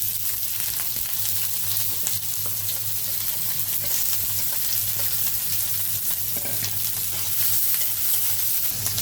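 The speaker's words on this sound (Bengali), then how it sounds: "এখন ভালোভাবে লাল করে ভাজা নেব পেঁয়াজগুলো" Onions and cumin fry steadily in hot oil in a pan, a dense continuous sizzle with occasional stirring scrapes, close and even throughout with no voices.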